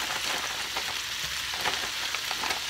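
Shrimp frying in a pan, a steady loud crackling sizzle with small pops throughout, close and continuous with no talking.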